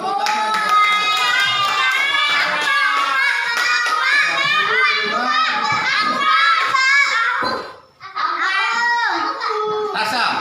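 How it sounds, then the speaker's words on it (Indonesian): A group of children claps hands in a classroom weigh-in activity, bright rhythmic clapping mixed with lively kids' voices and chatter, briefly dropping out before resuming. "Tepuk tangan."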